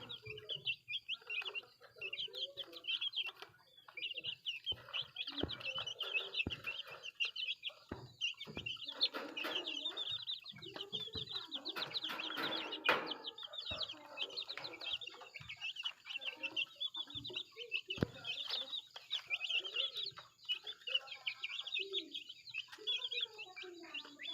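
Chickens and chicks cluck and peep continuously nearby, a busy chorus of high chirps mixed with soft hen clucks and occasional rustling.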